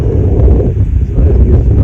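Steady wind blows across the microphone on a downhill hiking trail, a continuous low rumble with no talk.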